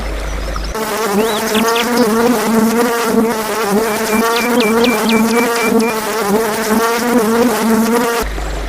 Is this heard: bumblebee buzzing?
yes